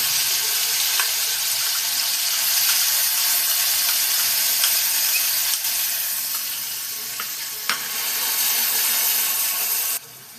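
Dry spices and a tomato-ginger paste sautéing in a pan for a cauliflower kofta curry, giving a steady, bright sizzle with occasional clicks, without any speech, until it cuts off at the end.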